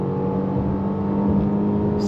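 A 2025 Range Rover Velar's 2.0-liter engine drones steadily under acceleration in sport mode, heard from inside the cabin as a loud, even hum with road noise and no talking.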